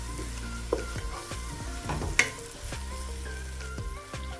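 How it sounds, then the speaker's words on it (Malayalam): Three medium chopped onions sauté in a pan for a creamy chicken curry with cashew paste, cooking until golden; a soft, steady sizzle runs throughout, with a few sharp clinks and scrapes from stirring, and no talking. "നന്നായി വാടി ഗോൾഡൻ കളർ ആവുന്നത് വരെ വഴറ്റിയെടുക്കുക"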